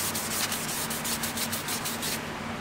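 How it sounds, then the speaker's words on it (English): Steady rhythmic sanding of paint in a BMW E30 engine bay, close and continuous with repeated rubbing strokes, stopping just before the end. "I'm gonna keep sanding it until just that starts to haze in the middle"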